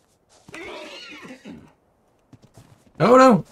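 A horse (equus) in the video game ARK gives a single loud, bright whinny near the end, after an earlier stretch of softer sounds that may be a person talking, with a few faint taps in between.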